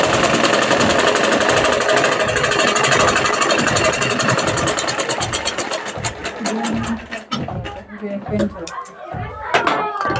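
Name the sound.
sewing machine stitching a blouse hem fold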